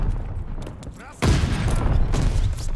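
Grenade blast and gunfire in the Call of Duty Vanguard beta: a sudden loud burst cuts in after a quieter stretch of battle noise, then sustained dense firing and rumble continue to the end, with shouted voices mixed in.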